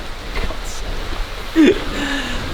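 Rain falls on a golf course as a steady, close hiss throughout, with a brief low thump partway through.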